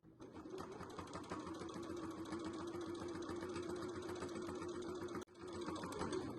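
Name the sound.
sewing machine topstitching along the edge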